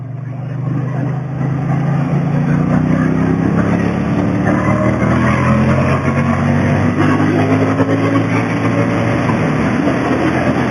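A Triumph Bonneville motorcycle rides over a rough, bumpy stretch of road, its engine note rising steadily under constant loud wind and road noise.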